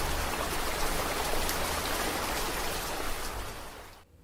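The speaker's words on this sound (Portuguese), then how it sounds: "Acertou quem disse que é a chuva" Steady rain falling, a dense even hiss of drops that holds for about four seconds before cutting off abruptly near the end.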